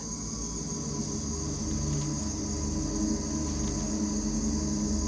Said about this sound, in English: Look, a tree cricket, a very small one.